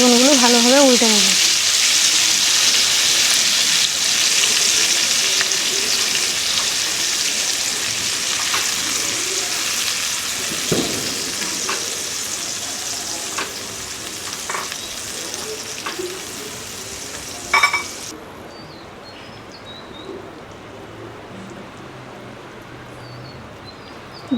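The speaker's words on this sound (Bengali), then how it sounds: "এবার আমি বেগুনগুলো ভালোভাবে উল্টে নেব।" Eggplant frying in yogurt in a pan gives a continuous close sizzle that slowly softens while the pieces are turned, with a few light scraping knocks before the sizzle cuts off near the end.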